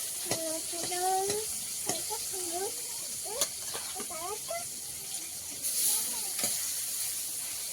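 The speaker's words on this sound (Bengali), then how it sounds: "আগে মাথা দুটো ভেজে নিই ভালোভাবে" Two fish heads fry in a pan, a steady hiss and sizzle running underneath, while occasional sharp clicks punctuate it and voices talk over the top.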